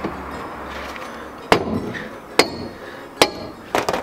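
Sharp metallic hammer blows knock at rusty twenty-year-old nuts and bolts on an old Savoy, four loud, spaced strikes with a quick double hit at the end, each ringing briefly over a quiet background.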